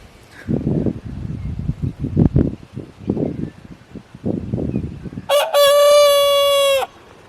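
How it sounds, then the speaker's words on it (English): After some indistinct talking, a rooster lets out one loud, drawn-out crow close by. "The roosters learned how to crow."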